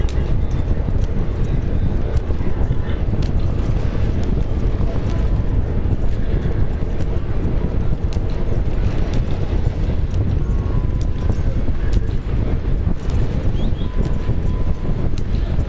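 A horse galloping in the video game Red Dead Redemption 2, with steady, dense hoofbeats and wind noise running loud and unbroken throughout.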